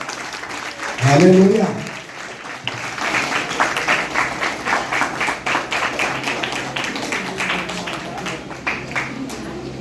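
A congregation at a Christian meeting hall in Yadiki, Anantapuram claps steadily in a rhythmic beat, close and fairly loud. A voice calls out briefly at the start before the clapping takes over.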